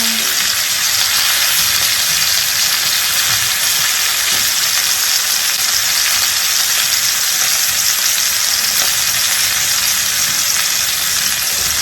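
Oxtails sizzle and fry steadily in a hot pan alongside mustard and collard greens, a loud, continuous crackling hiss that holds without pause, with no talking.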